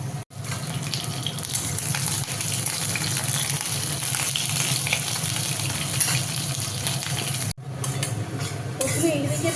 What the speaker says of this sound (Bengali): আর এখানে এখন পেঁয়াজ ভাজা চলছে